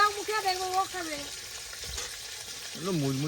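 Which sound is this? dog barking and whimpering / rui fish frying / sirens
rui fish frying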